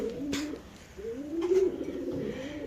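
Pigeons at a pigeon farm coo close by in low throaty rolling calls, two or three phrases over faint background noise.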